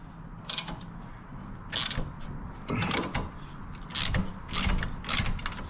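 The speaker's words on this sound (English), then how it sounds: "So we'll just get in here with the regular ratchet." A hand ratchet clicks in short, uneven bursts while working loose a corroded, thread-locked bolt on a Harley-Davidson touring motorcycle. The sound is close, over a low background hum.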